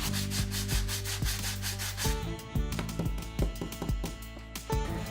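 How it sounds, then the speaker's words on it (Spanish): Steady rhythmic scraping of sandpaper rubbing across the sides of hardened plaster diorama scenery, repeated strokes close by with no talking. "aprovecho para lijar los laterales y darles un acabado más liso"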